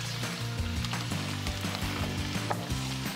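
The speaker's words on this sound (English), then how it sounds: "when that starts sizzling a little bit, we're gonna add the meat." Oil sizzles steadily in a frying pan before meat goes in, a constant crackling hiss with a faint background tone underneath.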